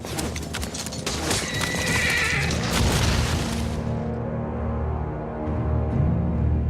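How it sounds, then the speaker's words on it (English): A cavalry charge in a Game of Thrones battle scene: about forty horses thunder at full gallop with rumbling hooves and loud neighing, then the din drops to a lower, muffled roar. "That's 40 horses charging full speed at Kit Harington."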